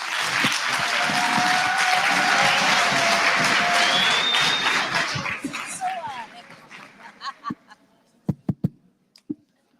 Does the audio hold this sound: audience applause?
yes